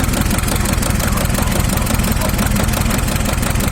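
T-16 tractor engine running after a fuel pump replacement, a close, loud, rapid diesel clatter with a steady throbbing knock that persists throughout, someone talking over it.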